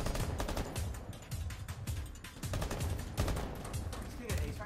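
Rapid, sustained automatic gunfire from the Rainbow Six Siege game rattles in repeated bursts throughout, with shouting voices mixed in beneath the shots.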